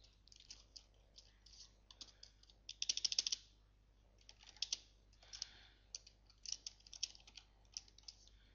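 Light typing on a computer keyboard, with scattered quiet key clicks and a brief quick flurry of taps near the middle, heard close over a faint steady hum.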